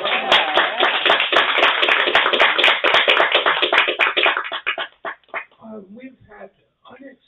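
A small audience at a university authors' reading hour claps for a guest who has joined by Zoom: brisk, close applause for about four seconds, then thinning to a few scattered claps and a faint voice before fading out.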